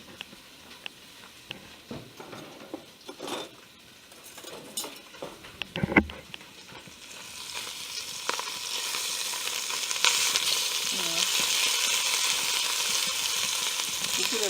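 Meatballs for Italian meatball soup brown in a pan, starting with faint scattered clinks and spatters, then building into a steady, louder sizzle that fills the back half.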